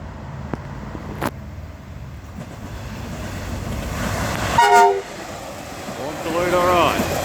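Two Australian Doodlebug passenger railcars rush past at speed at Baxter, Victoria, a steady rolling roar building as they near, with a short sharp horn toot midway and a voice briefly speaking near the end.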